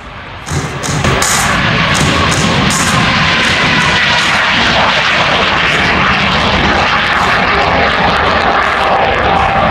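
A Soviet MiG-17 jet fighter flies past with a loud, sustained engine roar that rises sharply within the first second and then holds a broad, steady rumble to the end.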